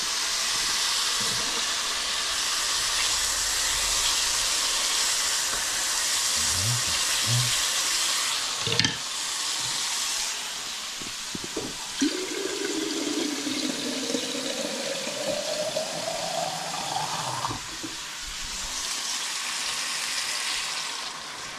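Water poured into a hot pan of frying meat for a sour cream meat stew sets off a loud, steady hiss and bubbling, with a rising gurgling tone as the pan fills and a few clanks.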